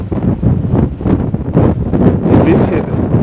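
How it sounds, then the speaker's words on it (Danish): Strong storm wind buffets the microphone outdoors in loud, uneven low-frequency gusts that rumble and thump. "Og det stormer ret meget af."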